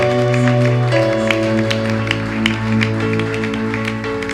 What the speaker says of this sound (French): est-ce que nous pouvons l'encourager par nos acclamations?